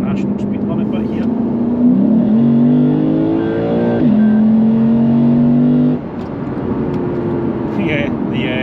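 A car accelerates hard along a national speed limit road, its engine note climbing steadily through the gears and dropping off near the end, loud and continuous inside the cabin.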